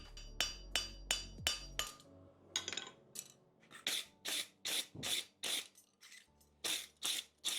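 Hammer strikes on a plain stamped front horseshoe being forged, about fifteen sharp metallic ringing blows in uneven bursts, close and clear with brief pauses between groups.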